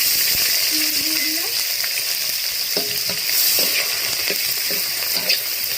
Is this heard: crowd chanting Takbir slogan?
no